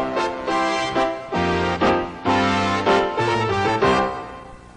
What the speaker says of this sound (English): we can hear what a piano sounds like with horns.